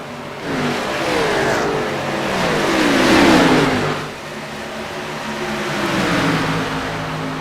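Race cars at a dirt motocross-style Grand National Series event at Charlotte roar into a turn, engines rising and falling in loud, overlapping revving waves as the pack passes close by.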